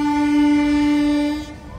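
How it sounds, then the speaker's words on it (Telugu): A train horn on the Gowtami Express blasts as one loud, steady, close tone that cuts off near the end and leaves the hum of the moving train. "ఆహా, హాంకింగ్ విన్నారా?"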